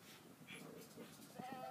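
Dogs whimper briefly with a thin, high whine near the end of the clip, partly under a person talking nearby.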